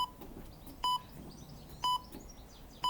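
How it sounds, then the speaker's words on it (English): A HIIT workout interval timer beeps three times at one-second intervals, short, sharp electronic tones standing out clearly over quiet background noise, with no speech. "So start this timer, 18 minutes in total."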